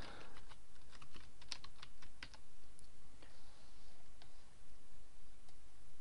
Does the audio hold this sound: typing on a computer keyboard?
yes